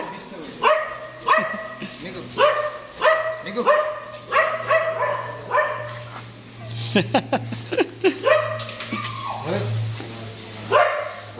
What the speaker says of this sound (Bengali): বাইরে কুকুরগুলো চিল্লাচ্ছে